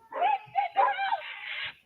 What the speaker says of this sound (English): It sounds like there's a dog close by to fed it to the dog.